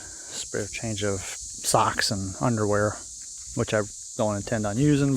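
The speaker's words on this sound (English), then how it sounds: "you can hear the cicadas singing." Cicadas on a hot September day near Stone Door in Savage Gulf State Natural Area, Tennessee, a constant high shrill buzz running beneath someone talking close by throughout.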